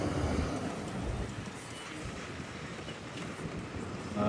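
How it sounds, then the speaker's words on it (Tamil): A train rolls across the Pamban rail bridge over the sea, a steady, faint rumbling wash of wheels and wind with no clear clicks, continuous throughout. "பாம்பன் பாலத்தில் ரயில் போகிற அழகை பாருங்க."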